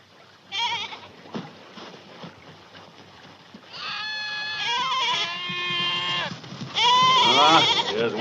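Goats aboard a ship, bleating in a loud chorus of quavering cries that overlap and grow stronger toward the end, after a few short thumps at the start.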